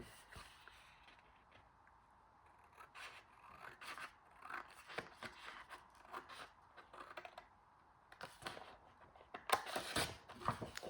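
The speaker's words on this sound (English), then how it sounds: "So we're going to cut along there and cut down here and remove this piece." Scissors cut through a 12x12 sheet of craft paper in short, crisp snips and rasping slides, close and fairly quiet, with pauses and light handling rustles between cuts.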